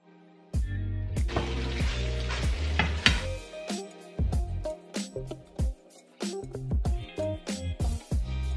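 Poor man's steaks frying in a pan on medium-high heat, a steady sizzle broken by repeated sharp clanks and scrapes of a utensil against the pan, close and fairly loud with no talking.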